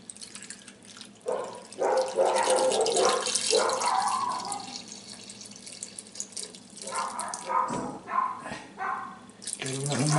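Tap water pours into a cooking pot holding potatoes, a hollow splashing flow that rises and falls in bursts, close by and fairly quiet, with brief pauses and no talk.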